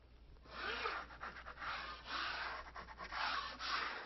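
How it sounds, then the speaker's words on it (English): A drywall broad knife spreads a loose bond coat of dry set mortar over a KERDI membrane on a shower tray, making soft, continuous scraping and smearing strokes that rise and fall at a quiet, close level. "We're just simply spreading out that bond coat of dry set mortar"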